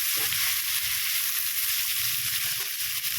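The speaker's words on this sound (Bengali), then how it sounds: "গ্যাসের ফ্লেমটাকে হাইতে করে দিয়ে সব উপকরণগুলোকে একটু ভালো করে ভেজে নিচ্ছি" Vegetables and chicken for chicken chow mein frying in a pan over a high gas flame make a continuous hissing sizzle at moderate level, with faint stirring.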